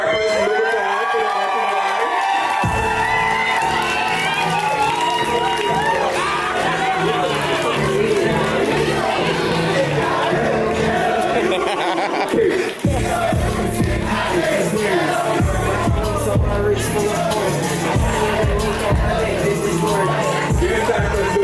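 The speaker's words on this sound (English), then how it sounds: "Give Cypress Louboutin a round of applause" Crowd at a kiki ballroom awards ceremony cheering, whooping and shouting for an award winner, loud and continuous, with chatter and excited voices mixed throughout and scattered claps.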